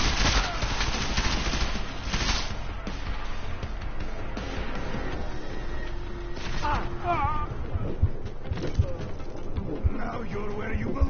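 Deus Ex: Mankind Divided gunfire crackles in dense, irregular bursts under shouted voices and noisy combat ambience, fairly loud and constant.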